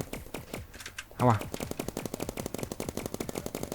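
Paintball guns firing in the Roblox game BIG Paintball, a rapid, steady stream of sharp popping shots close up, with a louder burst near the start and excited talk over the firing.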